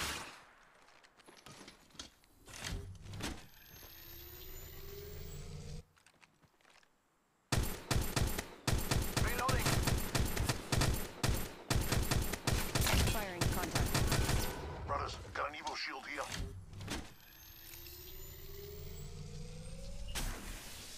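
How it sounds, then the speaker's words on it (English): Gunfire in the mobile shooter Apex Legends Mobile: a long, loud stretch of rapid automatic shots in the middle, with scattered quieter shots and game noise before and after. "Getting shot at."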